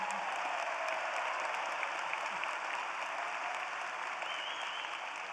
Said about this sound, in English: let's give a round of applause for all mothers